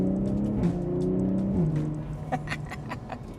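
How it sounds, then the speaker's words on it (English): A BMW M340i with B58 engine, 200-cell downpipe and resonated OPF delete, revving nearby: a crisp exhaust note rising and falling in pitch, then settling with brief pops of overrun, no voices. "And as you can hear, a very crisp sounding car."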